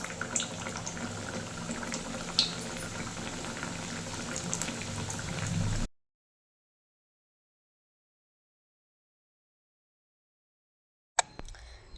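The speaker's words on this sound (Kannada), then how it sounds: "ಸೊ ಇವಾಗ ಮಾಡಿರೋ ಅಂಥ ಎಗ್ ಪಫ್ಸ್ನ ಎಣ್ಣೆಯಲ್ಲಿ ಕರಿಬೋದು." Egg puffs sizzle in hot oil with a steady, crackling hiss for about six seconds, followed by silence and then a brief burst of sizzling.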